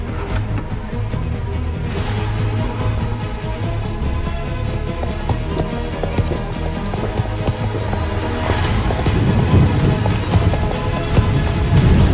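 Horse hooves clip-clop steadily at a run over a constant musical bed in a short film, the beats continuous and moderately close, growing a little louder toward the end.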